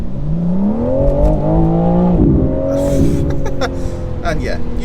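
A BMW M4 CS accelerates hard, its engine note climbing steadily, dipping briefly at a gear change, then rising again, loud and close from inside the cabin. A voice talks over part of it.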